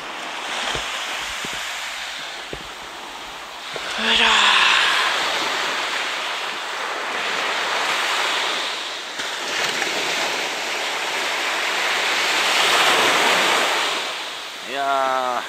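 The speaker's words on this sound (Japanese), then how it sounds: "こっちの方が波荒いからな、" Rough surf breaking on a beach on the west side of Omura Coast in Toyama at dusk, a steady broad wash of waves swelling and receding, with brief faint voices near the start and end.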